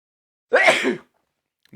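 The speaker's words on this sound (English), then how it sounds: "I'm about to sneeze." A single sneeze, close and fairly loud, a sharp burst that trails off quickly, followed by silence.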